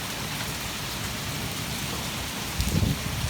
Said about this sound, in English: So it's still kind of hailing.